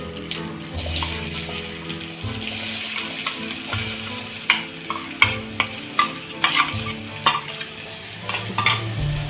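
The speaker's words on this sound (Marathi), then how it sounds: "तर इथे आपण आता थोडं तूप टाकणार आहोत साजूक तूप आणि आपण ही आता याच्यामध्ये मूग डाळ टाकतो" Moong dal roasting in pure ghee in a pan, with steady close stirring and scraping, a soft frying hiss underneath and sharper spoon-against-pan clicks growing more frequent toward the end.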